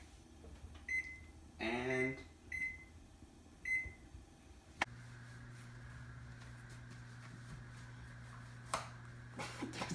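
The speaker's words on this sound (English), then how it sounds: "So I'm gonna set that timer." An oven timer being set in a home kitchen while baking cookies: several short, sharp beeps in the first few seconds, one with a brief word spoken over it, then a steady appliance hum takes over.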